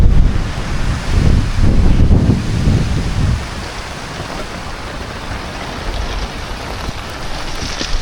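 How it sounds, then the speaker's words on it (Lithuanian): Heavy rain falls at a Croatian campsite, the Lanterna camping resort, as a loud, steady, close hiss and rush. It is strongest over the first three seconds, then settles into a slightly quieter continuous downpour with no voices. "Eina lietus stiprus."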